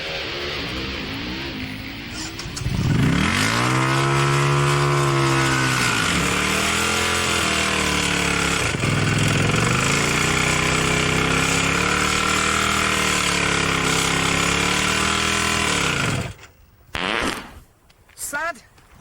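Motorcycle engine drained of oil revved flat out, a loud, harsh, strained roar held for about thirteen seconds with wavering pitch, then cutting off abruptly into a few sputtering bursts, with talk over it.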